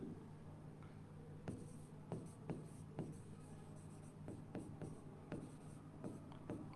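Pen or chalk strokes on a board during a chemistry lecture, a series of short scratchy taps and strokes at an irregular rhythm, fairly faint and close, with no talk over them.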